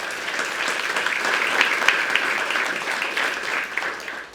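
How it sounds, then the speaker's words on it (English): Audience at a basketball coach's introductory press conference applauds in a dense, continuous wash of clapping that builds and then tapers off, fairly close and even, with no speech over it. "Give them a round of applause."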